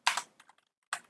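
A few keys are struck on a computer keyboard, close and quiet: a quick double tap, two faint clicks, then one more press after a short pause.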